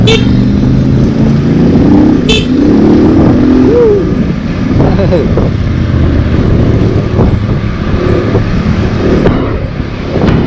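Road traffic with cars and motorcycles near the Biñan, Laguna baywalk esplanade, a close, loud and continuous hum of engines with passing vehicles and occasional horn-like tones.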